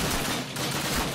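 Gunfire from the video game Call of Duty, a dense rapid burst of shots running nearly continuously with a brief dip midway, loud and close with no talk over it.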